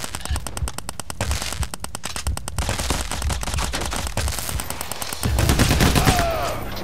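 Rapid bursts of automatic gunfire fill a firefight in the co-op heist shooter Payday: The Heist, loud and near throughout, with a heavier swell of shots and game effects near the end.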